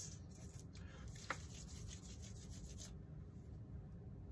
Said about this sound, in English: A little bit of fine sandpaper and just sand that.